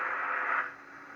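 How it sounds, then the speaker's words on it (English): Steady hiss of radio static from a Yaesu FT-101 shortband receiver under restoration, loud and close at first, then easing slightly and continuing as a constant rushing noise with no voices. "there's a lot of static"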